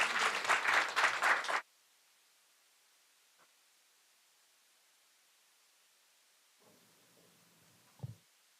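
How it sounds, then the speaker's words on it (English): At a maritime workshop, an audience gives a short burst of applause that cuts off abruptly, leaving near silence broken only by faint rustling and a small thump. "Please, big, big, big round of applause."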